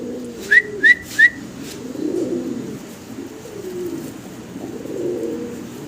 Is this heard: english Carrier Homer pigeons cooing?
yes